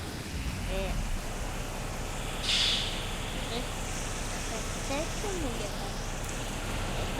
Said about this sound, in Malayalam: മഴയൊക്കെ ഉണ്ട്.